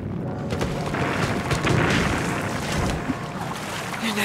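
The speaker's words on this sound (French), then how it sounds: "Le navire a explosé" A ship explodes at sea in an animated adventure on a mysterious island, a loud rumbling blast with churning low roar and wind-like swell that rises and fades over a few seconds.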